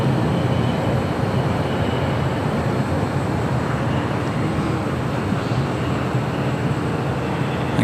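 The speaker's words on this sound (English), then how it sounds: "that was flight 601 coming in from Amsterdam, a 787-10 Dreamliner, arriving on the north side at 24 right" A Boeing 787-10 Dreamliner arriving from Amsterdam lands at LAX on runway 24 right, its engines giving a low, even rumble that holds steady at moderate distance.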